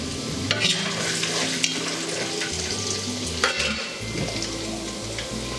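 Peanuts fry in a pan for a homemade sweet-shop-style savoury mixture, giving a continuous close crackling sizzle with repeated stirring scrapes and light clatter.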